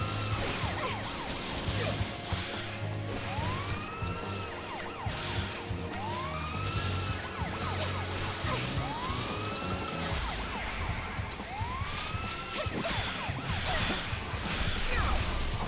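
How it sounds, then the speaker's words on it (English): Siren wailing inside the video game Final Fantasy XIII-2, a repeating rising and falling tone cycling under crashes and game noise, moderately loud and persistent. "I hate the fact that we have to have the siren going off all the time."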